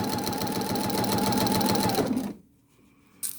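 A sewing machine with a walking foot quilts through fabric layers in a loud, fast, steady mechanical whir close by, then stops abruptly, leaving quiet before a brief clack.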